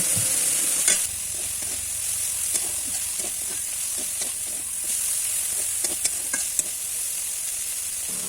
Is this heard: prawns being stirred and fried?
yes